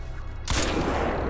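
Gunfire in the video game Crysis 2: a sudden loud shot bursts in after a quiet moment and leaves a rumbling, echoing tail.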